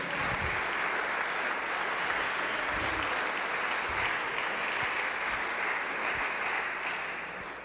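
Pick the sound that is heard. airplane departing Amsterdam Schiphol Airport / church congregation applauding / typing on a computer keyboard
church congregation applauding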